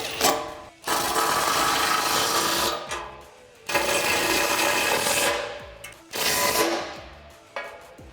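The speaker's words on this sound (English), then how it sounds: "And then for that nylon lock nut, I'm using a 17mm wrench." Bolt on a Jeep Wrangler JL rear bumper tightened with a 16mm socket on a 3-inch extension and a 17mm wrench on a nylon lock nut: three close bursts of rapid ratcheting and scraping, each a few seconds long, with short pauses between.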